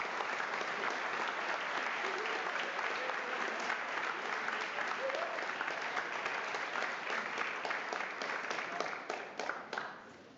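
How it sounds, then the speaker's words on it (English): Sustained applause from an audience at a school Veterans Day gathering, dense steady clapping that fills the whole stretch before thinning slightly near the end. "a round of applause for all of those people."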